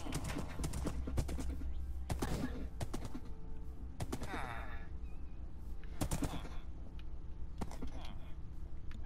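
Horse hooves clip-clopping in a video game, a rhythmic run of hoofbeats amid bursts of gunfire and game effects, with a voice speaking now and then.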